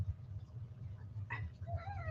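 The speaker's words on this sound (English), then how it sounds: "And the cat wants to say hi again." A house cat meows twice indoors, fairly close but soft, the second call a longer rising-and-falling meow, over a low steady room hum.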